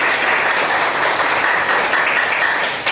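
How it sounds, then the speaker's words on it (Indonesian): A group of participants in a classroom ice-breaking session claps together, a dense, continuous burst of applause heard close and loud for a few seconds. "tepuk tangan untuk kita semua"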